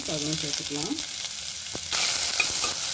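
Sliced onion sizzles steadily in a hot pan for potato masala, a constant bright frying hiss with a brief stir, while someone speaks over it at the start.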